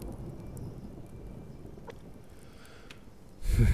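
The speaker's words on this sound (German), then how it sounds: "Es regnet wieder, ne?" Steady rain in the video game Subsistence patters in a soft continuous hiss, with a louder low rumble bursting in at the very end.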